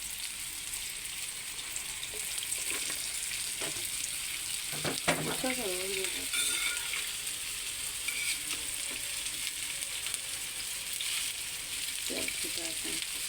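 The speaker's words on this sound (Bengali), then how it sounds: "এখন এগুলো তেলে ভাজতে হবে" Snacks of flour and egg frying in oil give a soft, continuous sizzle with occasional stirring clatter, faint and steady with no speech.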